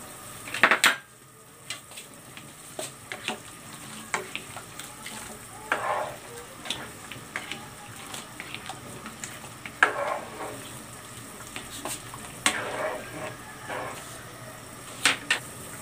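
String beans, eggplant and okra fry in a pan, a soft continuous sizzle punctuated by scraping stirs and clinks of a utensil against the metal, with some louder clatters.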